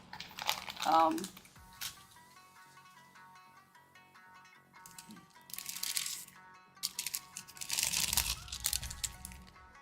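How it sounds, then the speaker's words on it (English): Small plastic bags crinkle and rustle as hands handle them, in sharp bright bursts near the start and again toward the end, close and fairly loud, with a quiet pause between. "I have these little plastic bags."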